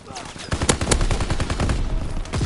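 Rapid gunfire in the World War II shooter Call of Duty WWII, with dense bursts of sharp automatic shots and scattered single cracks running throughout, loud and close.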